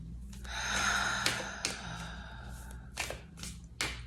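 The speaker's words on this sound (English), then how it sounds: "Exhale." Breath being exhaled during a guided breathing exercise, a soft airy release near the mic followed by a few sharper breathy puffs and bumps.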